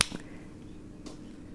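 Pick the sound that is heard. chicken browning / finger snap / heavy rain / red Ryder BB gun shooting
finger snap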